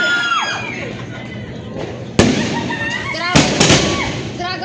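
Sponsored Dragon Ball fireworks crackle and boom nearby, with sharp bursts and whistles over a murmuring crowd and a few voices talking.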